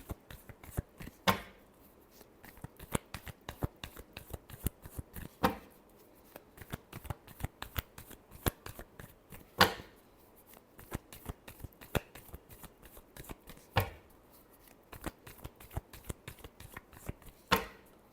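Tarot cards being shuffled by hand, close crisp riffles and slaps repeating in irregular bursts with sharper snaps every few seconds, no talk.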